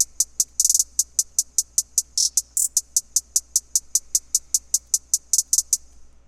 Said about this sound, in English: I added this hi-hat pattern that's really simple.